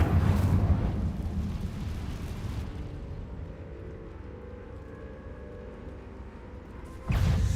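Incendio fire spell cast in Hogwarts Legacy, starting with a loud whooshing burst of flame that fades into a low, rumbling roar. A second sharp burst arrives near the end. No one speaks.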